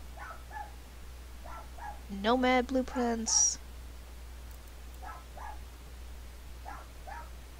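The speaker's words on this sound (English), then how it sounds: "Shut up, dogs." Dogs barking in a video game, a short burst of several loud barks in quick succession, with someone talking quietly before and after.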